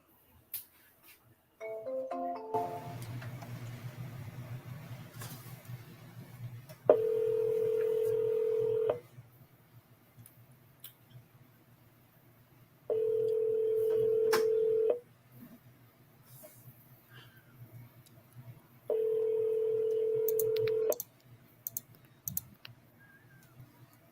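A telephone number is dialed. A short burst of keypad beeps comes first, followed by three long ringback tones spaced a few seconds apart, with faint clicks and handling noise in the quiet gaps.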